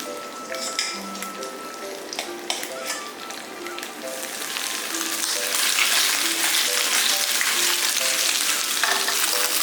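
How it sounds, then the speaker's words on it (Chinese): Starch-dusted sea bass sizzles and crackles steadily in a hot pan, the frying growing louder and denser, with faint tonal beeps in the background. "鲈鱼下锅前来打一点干生粉，再把它放到锅里面煎。"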